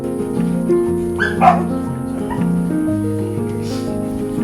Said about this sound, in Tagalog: Sila kasi ni Michael ang nagbabantay sa mga tuta upang padedein kay Mayumi.